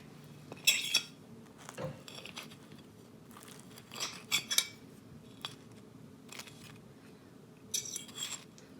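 A hot, fresh-baked cinnamon roll dough apple hand pie is cut open with cutlery, giving a few sharp clinks and crisp crunches against a plate amid quiet background hiss.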